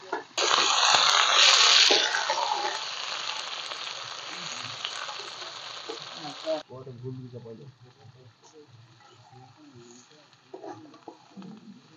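Chicken pieces frying in oil in a pan give a loud, dense sizzle for the first several seconds, then drop to a quieter crackle as clatter and stirring noises continue.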